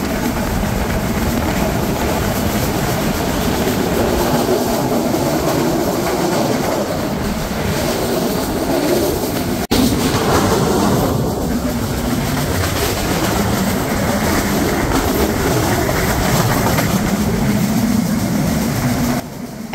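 The Padma Express passes through Bangabandhu Hi-Tech City railway station, heard from on board as a loud, constant rumble of wheels on rail with rhythmic clatter and occasional squeal.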